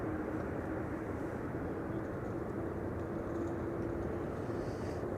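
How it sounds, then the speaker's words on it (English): An Air Canada Boeing Dreamliner departing Amsterdam Schiphol sends a low, distant, steady jet rumble with a faint tonal hum running through it, quiet and unbroken, no talking heard. "Air Canada Dreamliner in bank robber livery is leaving with the loot"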